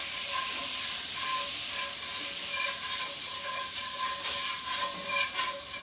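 Merlot red wine sizzling and hissing as it hits a hot pan during dinner cooking, a steady soft frying crackle with faint clinks of stirring, no talking.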